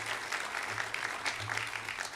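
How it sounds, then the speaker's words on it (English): An audience at a college honors convocation applauds the faculty, a continuous, even wash of clapping from a large crowd with a faint low hum beneath. "Let's give your faculty a round of applause"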